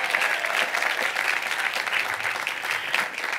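Sustained applause from a large audience at a graduate school commencement ceremony for MBA and Ph.D. graduates, a dense, steady wash of many hands clapping throughout with no talk.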